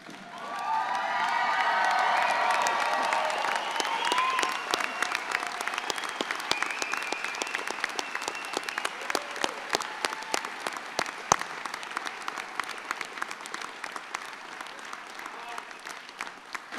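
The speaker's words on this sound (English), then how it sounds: "Audience, please stand and applaud our new graduates." An audience claps for new graduates at an evening college graduation ceremony, with cheering and crowd noise. The applause swells quickly, holds for several seconds, then thins into scattered individual claps as it fades.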